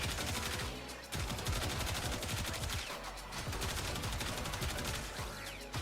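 The Incarnon Soma rifle fires nonstop in Warframe, a dense, rapid rattle of shots at a steady fast cadence, loud and close, with only a brief dip around the one-second mark.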